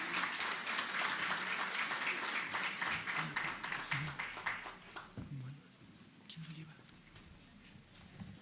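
An audience claps for the doctors joining a discussion panel, dense applause for several seconds that fades out as people start talking.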